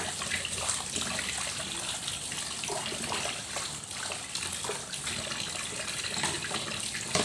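Cold water pours and splashes steadily into a basin as bamboo shoots are washed, a continuous close rush and slosh with no talking.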